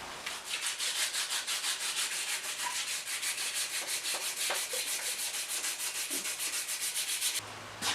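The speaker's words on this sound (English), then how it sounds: "I need to do my in-between coat sanding on mandolin number 2" Close, steady rhythmic sanding rubs a finish coat between coats on a handmade mandolin body in a mandolin workshop, strokes repeating evenly and continuously with no talking.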